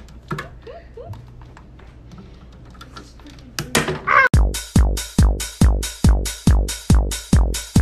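A crow caws in a rapid series of about ten loud, harsh, evenly spaced calls close by, after a quieter stretch of faint chirps and a brief voice.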